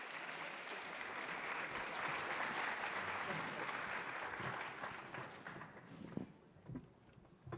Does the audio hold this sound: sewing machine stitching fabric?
no